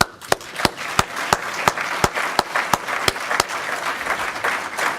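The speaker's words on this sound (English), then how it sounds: "please take a look at your future leaders of PSEG and give them a round of applause" Audience applause at a PSEG leadership academy graduation ceremony, with a few sharp distinct claps standing out over a steady, moderately sized round of clapping that carries on without pause.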